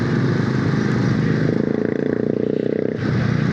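Voge motorcycle ridden in third gear on a test ride: a loud, close engine drone holds steady with wind noise, rising and falling slightly as the throttle shifts.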